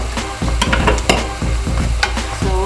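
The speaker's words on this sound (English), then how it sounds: "So we'll quickly stir those in." Tiny scallops are stirred into pasta in a hot pan, making a loud close sizzle with repeated scraping and clattering strokes of the utensil.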